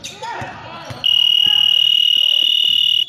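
A sustained, loud electronic buzzer tone sounds during a game, holding steady for about two seconds after brief activity with voices and bouncing.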